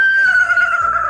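A human voice imitating a horse's neigh, a loud, close, high drawn-out whinny that slowly falls in pitch over about a second, heard alone without talk.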